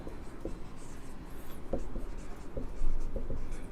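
A pen scratching out a point in chemistry notes, steady soft writing strokes with a few sharper taps, close and moderately quiet with no speech over it.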